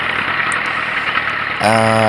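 Ford 8N tractor engine idling steadily and close by, a continuous low rumble that grows louder and rougher near the end.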